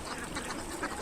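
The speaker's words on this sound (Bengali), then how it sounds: "বৃষ্টির দিনে দেখেন পাতিহাঁসগুলো কত সুন্দর করে এখানে তাদের খাবার জোগাড় করেছে" Domestic ducks foraging for spilled rice grains in an open field on a rainy day give short, nasal quacks close by, packed into a brief moment with no talking.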